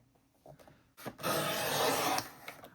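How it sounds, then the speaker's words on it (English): A paper trimmer slicing through cracker box cardboard for a junk journal folio, a short close scraping cut lasting about a second after a few soft handling taps. "I'm going to use my trimmer here, and I think I'm going to trim it down to about 2 1/4."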